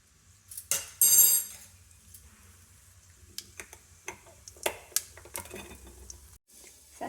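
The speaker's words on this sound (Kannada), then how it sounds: "ಈಗ ಎಣ್ಣೆ ಕಾದಿದೆ, ನಾನು ಅದಕ್ಕೆ ಸಾಸಿವೆ ಆ್ಯಡ್ ಮಾಡ್ತಿದ್ದೀನಿ." Mustard seeds go into hot oil in a pan and start crackling and popping in scattered sharp pops, with a few clinks of utensils against the pan up close.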